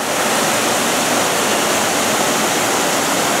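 Indoor waterfall inside a rainforest pyramid conservatory pours in a steady, loud, broadband rush of falling water that continues without pause, with no voices over it.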